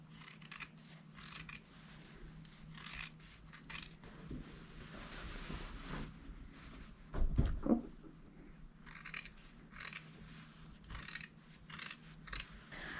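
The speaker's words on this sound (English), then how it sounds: "I finished trimming all the way around there" Fabric scissors snip steadily through the seam allowances of a sewn swing coat, giving a long run of close, repeated cuts with a brief louder rustle of cloth handling partway through.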